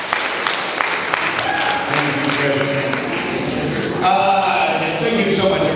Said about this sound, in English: Please give a round of applause to Mr. Stuart Huff